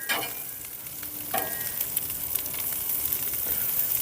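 An egg fries on a gas griddle with a continuous close sizzle and crackle, a few sharper pops and scrapes breaking through the hiss.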